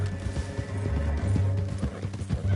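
Horse hooves clip-clop at a steady walking rhythm over a low drone, clear and close, with no talking, in the video game Red Dead Redemption 2.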